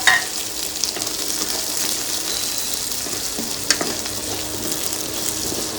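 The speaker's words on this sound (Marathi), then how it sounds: "आता कांदा गोल्डन ब्राउन होईपर्यंत आपण याला भाजू।" Chopped onions fry with cumin seeds in a pan, giving a steady, close sizzle with a few sharp crackles and light stirring clicks throughout.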